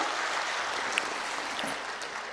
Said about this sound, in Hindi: एक बार जोरदार ताली बजाकर मुख्यमंत्री जी का स्वागत करने का काम कीजिए